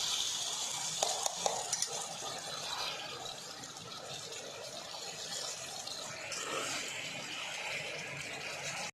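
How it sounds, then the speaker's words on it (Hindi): White mutton browning in a karahi sizzles steadily for several minutes while it is stirred, with a continuous hiss and a few faint scrapes and clinks of the spoon against the pan, no talking. "ये देखिए अब हम इसको 4 से 5 मिनट अच्छी तरह से भून लेंगे।"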